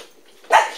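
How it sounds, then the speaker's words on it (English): A single short dog bark pops up near the end after a quiet moment, fairly loud and close, with nothing else around it. "As my dogs are going apeshit, guys"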